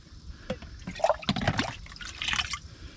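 Collected field water pours into a metal canteen cup, a short splashing trickle with a few drips, close and fairly quiet with no talk.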